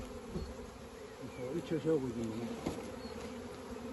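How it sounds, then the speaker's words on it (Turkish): Steady insect buzzing from a hive of honeybees fills the clip, a dense droning hum with a faint voice briefly underneath. "Bunda bir kovan arı var."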